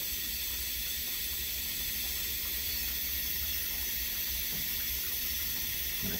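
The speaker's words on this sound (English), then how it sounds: "now I'm going to slowly open that drain valve to stabilize." Water rushing through an opened drain valve on a level-control loop rig, a steady hissing flow that stays constant throughout with no voices.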